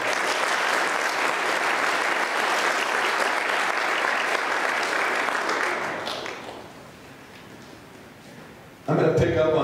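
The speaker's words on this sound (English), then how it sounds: "So one more quick round of applause for Mrs. Nathan." A room full of guests at an Eagle Scout Court of Honor applauds in a sustained, even round for about six seconds, then the clapping dies away into quiet room tone before a voice begins speaking at the end.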